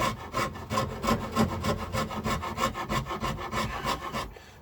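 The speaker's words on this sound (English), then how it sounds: "this little file is an absolute godsend. It really does remove wood" A chemically sharpened Japanese file rasps across the wood of a Les Paul guitar body in quick, even back-and-forth strokes, close and steady, stopping abruptly at the end.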